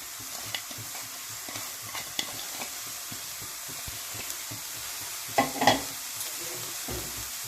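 Khesari greens stir-fried in a hot wok with mustard oil, with a steady soft sizzle and scraping stirs, a louder clatter of tossing near the end, close and without talk.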